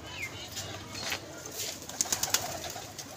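A blue pigeon gives soft, low cooing against faint background noise, with a short cluster of sharper chirping notes close by toward the end.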